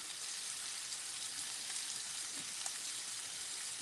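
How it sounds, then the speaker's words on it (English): Steady, dense sizzling like food frying in a hot pan, a continuous crackling hiss with no voices. "Can you still hear all right, or is the sizzling too much?"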